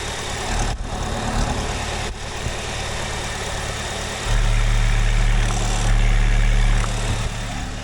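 A Chevrolet engine idles with its oil cap pulled off, a loud, steady low rumble from the crankcase pressure, growing heavier and throatier partway through with a brief dip in between, and no talk.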